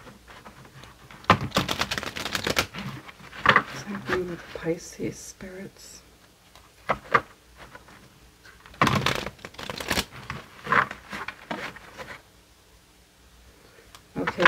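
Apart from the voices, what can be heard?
shuffling tarot cards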